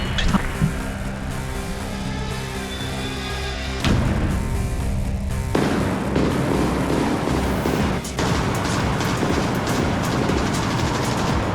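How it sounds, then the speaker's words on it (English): Tank guns shell fortified enemy positions on an eastern Ukrainian front, with heavy booming blasts and rumbling reverberation alongside engine-like drone and a sharp burst near the middle, loud and sustained without speech. "Tanks advance and begin shelling the enemy's fortified positions."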